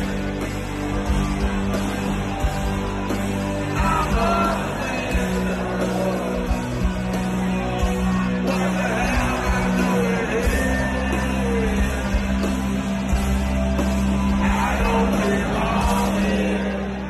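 A comedian sings a rock song live with a band before a fully vaccinated concert crowd: loud, continuous amplified band and vocals with steady crowd noise throughout.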